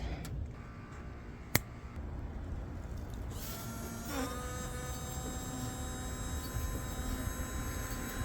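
A replacement windshield washer pump from a 1996-2004 Nissan Pathfinder R50, hooked to a bench power supply, runs with a steady, thin electric whine and buzz that holds through the whole stretch without pause.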